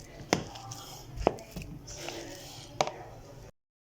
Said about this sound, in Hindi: आलू को हम मैश कर लेंगे बीटर के साथ अच्छी तरह।